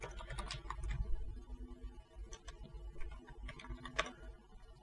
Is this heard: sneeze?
no